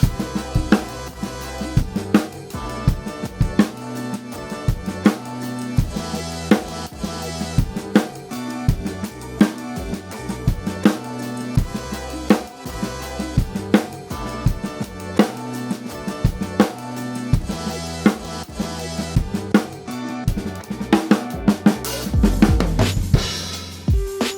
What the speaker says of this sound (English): Let's just put in a bass drum pattern.